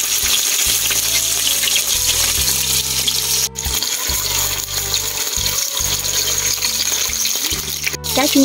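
Fish fries in hot fat in a pan, giving a loud, steady sizzle with crackle throughout, while a low mechanical hum pulses underneath and a person speaks briefly.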